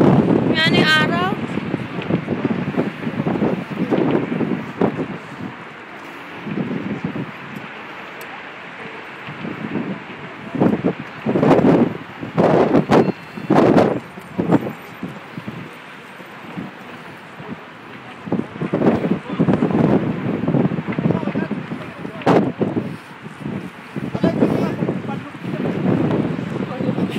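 Strong gusts of wind at the Golden Gate buffet the microphone in heavy rushing bursts, while people talk and call out intermittently over the roar.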